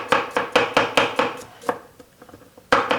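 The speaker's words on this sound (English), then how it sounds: "I happen to like personally the way I cut stuff on the board." Knife chopping vegetables such as radishes and onions on a cutting board, a fast run of sharp, close, evenly spaced strikes, then a pause with faint clatter before another burst of strikes.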